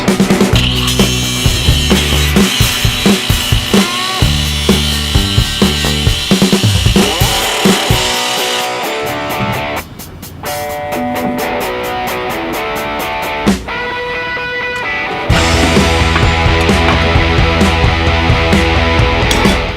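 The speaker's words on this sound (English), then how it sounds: "get in here with the grinder and get this thing prepped. I hate grinding this stuff." An angle grinder works the factory coating off a Suzuki Samurai frame being prepped for plating, a loud continuous grinding whine that cuts out briefly partway through and then returns at full strength.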